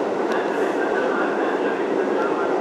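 An almost empty subway car rides at night with a dense, steady rumble and rushing roar throughout, plus a few faint clicks, loud and close.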